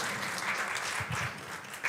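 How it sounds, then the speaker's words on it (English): Brief audience applause at a medical talk session, a fairly faint, steady patter of clapping lasting under two seconds with a few low thumps, no voices over it. "Please clap for the debates."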